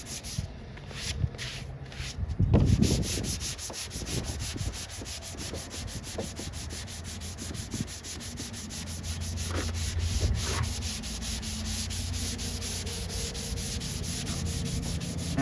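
Block sanding of primer on a Plymouth Scamp car body, done one-handed, makes a steady, close rasping scrub that continues throughout after a few brief knocks at the start, with no talk.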